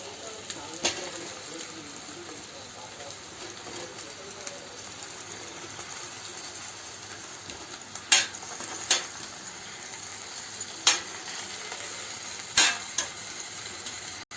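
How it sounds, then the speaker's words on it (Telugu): Korameenu fish pieces fry in a pan with onions, ginger garlic paste and green chillies, giving a faint, steady sizzle broken by a few sharp clinks. "ఇప్పుడు కొరమేను చేప ముక్కలను వేసుకుందాం."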